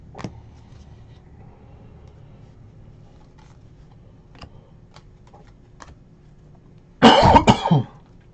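A quiet room with faint scattered clicks from handling basketball trading cards, then a single loud, close cough near the end.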